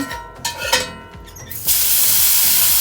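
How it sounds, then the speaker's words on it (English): Broadband hiss of a mushroom burger sizzling in avocado oil in a hot frying pan starts abruptly after some clinking and movement, then holds steady and loud to the end. "Ooh, listen to the sizzle."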